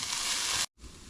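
Spices frying in a pan for unstuffed peppers, a loud steady hiss of sizzling that drops out abruptly for a brief moment, then returns softer.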